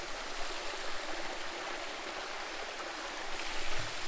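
Waterfall on the Smith Trail in Far North Queensland, a steady broadband rush of falling water, loud and unbroken throughout.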